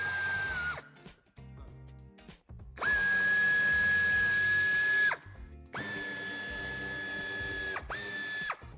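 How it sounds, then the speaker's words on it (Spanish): A power driver whirs in several bursts, backing screws out of the wheel arch liner on a 2021 Range Rover Evoque facelift, with a ratcheting mechanical tone and brief pauses between the loud, close runs. "Una vez hemos quitado los tornillos podemos retirar la funda"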